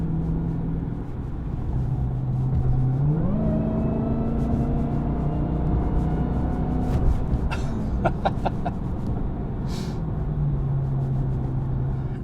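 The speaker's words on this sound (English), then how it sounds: "that supercharger whine," A steady engine drone from a 2021 Dodge Charger SRT Hellcat Redeye Widebody, with a rising supercharger whine that climbs in pitch and holds, loud and close, with brief clicking sounds later.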